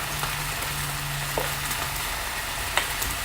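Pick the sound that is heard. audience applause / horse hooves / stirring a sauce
stirring a sauce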